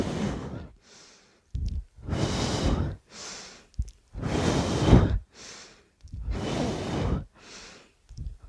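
Breath is pushed out and drawn in during a core-fusion twist exercise, in repeated loud breathy puffs about a second apart, close up and with no talk.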